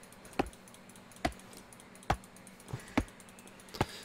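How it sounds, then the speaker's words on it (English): Sharp mouse and keyboard clicks during EverQuest Next Landmark play, about five distinct clicks spaced unevenly roughly a second apart, close and crisp over a quiet background hum. "With all my clicking."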